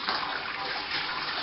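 Water steadily splashing and trickling onto the grain bed while fly sparging in a Robobrew home brewing setup, a continuous soft gushing hiss with no pauses.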